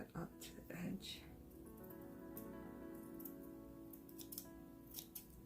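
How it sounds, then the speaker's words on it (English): Scissors snip through the edge of a craft sticker during a clothespin sticker project, a few soft close cuts at the start, followed by quiet handling clicks with faint talk underneath. "Flip this over like this. And just cut up to the edge."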